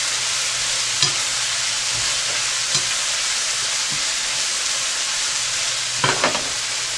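Onions and seasoning frying for venison chili, a loud steady sizzle close up with a few scraping stirs against the pot, including a quick cluster of strokes near the end.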